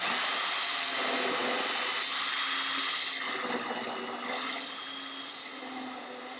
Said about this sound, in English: Just drill down to our tape.